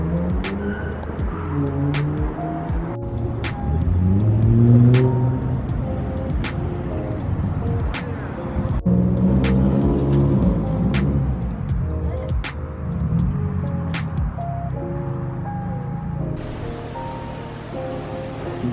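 A Nissan Skyline cruising on a road past midnight, a steady engine and road drone with gear changes rising and falling in pitch, heard from inside the car with faint ticking and tapping over it.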